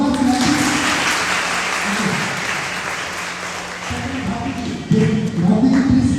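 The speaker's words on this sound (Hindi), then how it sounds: "जोरदार तालियां" A crowd at a stage event in Niwari district claps loudly to welcome a guest, dense applause running throughout with voices and a humming tone underneath, and a brief dip and resurgence near the end.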